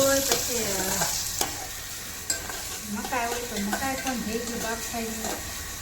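Garlic and onions fry in a pan for pasta while being stirred, a steady close sizzle under scraping strokes with a voice talking over it in places.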